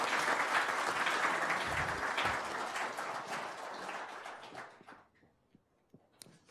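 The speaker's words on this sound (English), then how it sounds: "big round of applause" An audience at a technology panel session gives a big round of applause, a dense, loud burst of clapping that thins out and fades to scattered claps over the last seconds.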